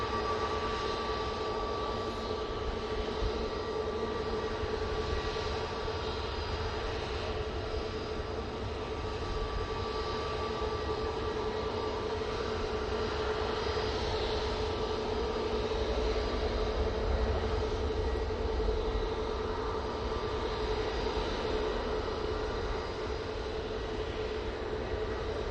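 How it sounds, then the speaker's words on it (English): Gulf Air Boeing 787-9 Dreamliner inbound from Bahrain landing at Manchester Airport, a steady, sustained jet roar and rumble that holds level throughout without any talk. "Right, our first Gulf Air in far too long is about to join us. Coming in from Bahrain using the 787-9 Dreamliner"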